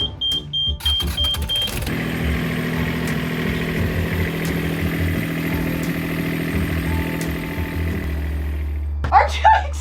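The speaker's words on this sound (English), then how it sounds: "The engine works perfectly." A restored boat engine idles steadily up close with a continuous low mechanical drone and rattle, after a brief start, with voices talking briefly at the start and end.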